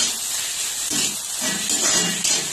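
Taro and fish fry in a pan with garlic and chilli paste, giving a steady, dense, close sizzling hiss that swells slightly through the short stretch, with no voices.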